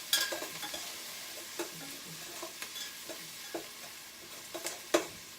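Onions sautéing in a pan for a Southern-style meal, a soft steady sizzle with scattered stirring clicks and scrapes, faint and fairly distant, no talking.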